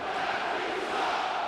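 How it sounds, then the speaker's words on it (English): A basketball arena crowd at an NBA game between the Portland Trail Blazers and Oklahoma City Thunder roars steadily at the officials, a dense, sustained wash of voices filling the whole moment. "the crowd letting the officials hear about it"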